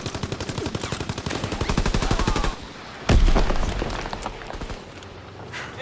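Rapid automatic gunfire in Call of Duty: WWII, a loud sustained burst of closely spaced shots that stops, then a heavy blast followed by more battle noise and another distant burst.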